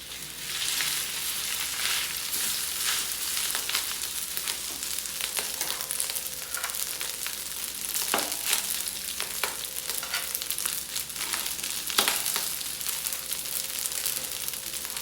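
Rice tossed into a hot pan with golden-browned garlic for simple fried rice sizzles loudly and steadily, with occasional sharper crackles and stirring scrapes throughout.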